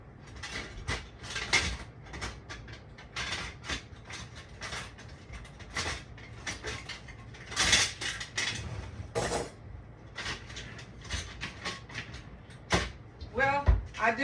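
Dishes, pots and cupboard doors handled in a home kitchen while putting dishes away: a steady run of clinks, clatters and knocks, some sharp and loud, close by, with brief muffled voice in places.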